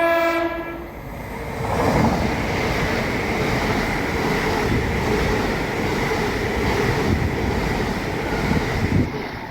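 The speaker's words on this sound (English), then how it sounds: "And now approaching will be the LNER Resumer service to Leeds from London King's Cross with 800-106." An LNER class 800 train, unit 800-106 on a London King's Cross to Leeds service, sounds its two-tone horn first and then rumbles loudly past Crossgates with a steady rolling roar and wheel clatter.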